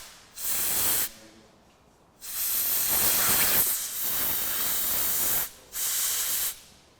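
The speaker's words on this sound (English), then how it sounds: "One thing I will do is just blast out these jets with a bit of compressed air." Compressed air blasted through the tiny jets of a Fiat Dino carburetor in three loud hissing bursts, the middle one longest, separated by short quiet gaps.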